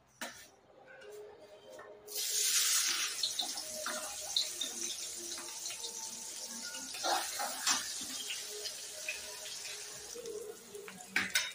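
Chopped onion frying in hot oil for a vegetable pulao: after a quiet start, a sudden loud hiss bursts in and settles into a steady, close sizzle with small crackles.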